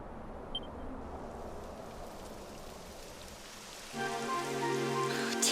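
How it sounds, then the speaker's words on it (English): Steady rain in Dragon Quest 11 begins as a soft wash of patter, then swells louder and denser partway through, with faint musical tones rising under the downpour. "It would have to go and start raining, wouldn't it?"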